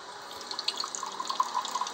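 Water runs steadily from a tap on an aquarium setup, a close, even splashing trickle with small drip-like spatters and no talking.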